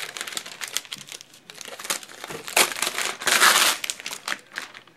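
A plastic bag, being cut to serve as a protective cover for a sticky homemade cutting mat, crinkles and crackles loudly in irregular close-up bursts, with no talk.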